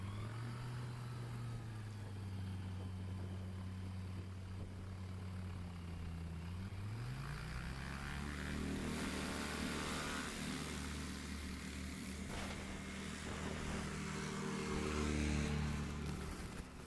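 A 2021 Just Aircraft Highlander light plane takes off at a STOL practice at an airpark, its steady engine drone rising in pitch as it powers up and climbs, loud and continuous throughout.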